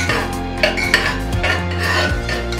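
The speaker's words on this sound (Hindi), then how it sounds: "तड़के के लिए मैंने कढ़ाई रख दिया है गैस पर" Metal kadhai set down on a gas stove for dal tadka, clanking and scraping of cookware with ringing metallic tones, close and fairly loud, with no voice.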